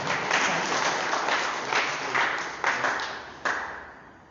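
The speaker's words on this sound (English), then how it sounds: "Come on, give God a clap of praise." A church congregation claps in praise during a service: a dense, steady wash of many hands, fairly loud, with a few sharper surges toward the end before it begins to fade.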